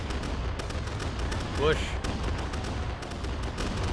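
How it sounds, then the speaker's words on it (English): Cannon and musket fire in a video game battle, a dense, continuous rumble of booms and gunfire under a voice, with one brief whistling tone standing out midway. "Because of all the cannons and muskets going."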